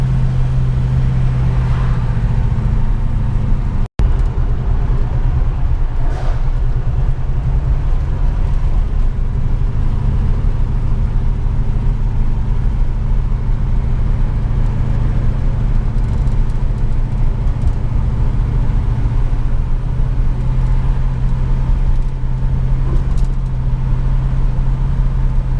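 A 1969 Dodge Charger cruising on a long road trip, a loud steady engine drone and road rumble heard from inside the car, constant throughout with one brief dropout early on.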